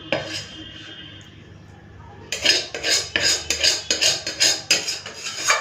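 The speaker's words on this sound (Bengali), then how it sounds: "কড়াটা পুরো চেঁচে ফুঁচে তো নিয়ে নিচ্ছে" Metal spatula scraping a karai pan clean after cooking a fish dish, a few quiet seconds followed by a rapid series of loud, close, rhythmic metallic scrapes.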